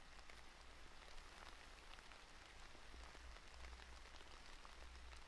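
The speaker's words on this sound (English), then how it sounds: "It's rain, spring showers." Steady spring-shower rain from the Flowscape video game, a dense continuous patter on surfaces with a low rumble beneath, even and moderately quiet throughout with no voices.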